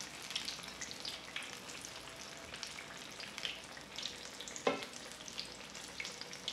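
Apple beignets fry in hot oil with a continuous soft crackle and sizzle, quiet and close, with scattered pops and one sharper clack midway, and no talking.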